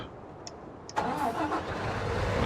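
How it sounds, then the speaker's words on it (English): Tractor engine starting in Farming Simulator: a couple of faint beeps, then the starter catches and the engine fires into a steady, rumbling idle that carries on to the end. "We'll get this tractor on the move before any more traffic shows up."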